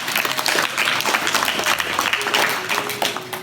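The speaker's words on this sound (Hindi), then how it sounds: "ताली बजाइए इनके लिए" Audience applauding for a young girl at a gurukul gathering, a loud, close burst of dense clapping that carries on steadily for a few seconds.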